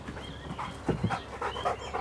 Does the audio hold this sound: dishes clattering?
no